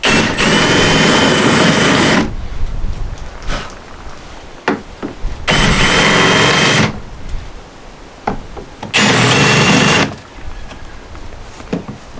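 A power drill whirs in three loud bursts of a couple of seconds each, drilling out a boat's rotten transom, separated by quieter pauses with small knocks and handling sounds.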